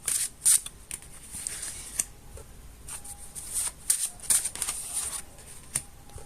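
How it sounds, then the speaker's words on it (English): Cards being shuffled in repeated bursts of crisp riffling and flicking, close up, with quiet pauses between, no voices. "as I shuffle the cards"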